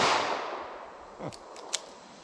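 A single shot from a Ruger LCP .380 ACP pistol at an outdoor range, a sharp crack at the start fading into a long ringing decay, followed by faint clicks.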